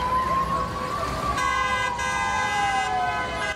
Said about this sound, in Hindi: इसके बाद वहां सायरन बजाती हुई पुलिस की गाड़ियां भी पहुंच गईं